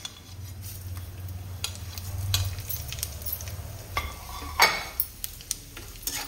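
Peanuts and cumin seeds frying in hot oil in a home kitchen, a soft steady sizzle with a low hum beneath, broken by scattered clinks and scrapes of a stirring spoon against the pan and one sharper clatter near the end.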